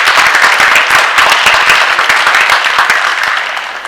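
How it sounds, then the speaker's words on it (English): Audience applause at an awards ceremony honoring students on stage, a dense, steady wash of many hands clapping close by that holds for several seconds and fades slightly at the end. "give a big round of applause for the amazing individuals on the stage"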